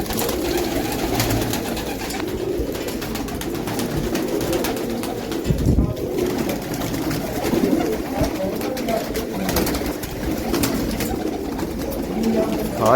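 Pigeons coo softly and steadily over a continuous noisy background, with occasional low rumbles and indistinct voices in the distance.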